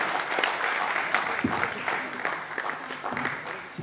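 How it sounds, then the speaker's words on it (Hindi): Audience applause for ballet dancers at a stage performance of the ballet Rani Durgawati in Bhopal, a steady wash of many hands clapping, moderately loud and continuous for about four seconds. "जोरदार तालियां"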